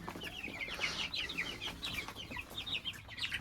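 A flock of young chicks on a farm keeps up a busy, overlapping stream of high peeping and soft clucks, close by and fairly steady throughout.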